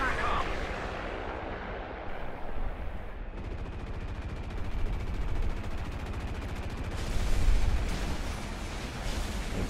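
An enemy tail gunner's machine gun fires in rapid, dense bursts in a flight combat video game, loud and continuous over engine drone, with a voice talking over it.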